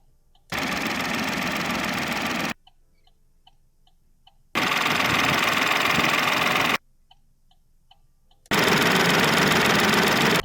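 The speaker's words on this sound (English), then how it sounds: "When you're sitting in stationary traffic, idling, you can feel the vibrations of the engine coming through." Vauxhall Corsa three-cylinder engine idling in three separate bursts, each a steady low rough hum lasting about two seconds, with near-silent gaps between them containing faint ticking.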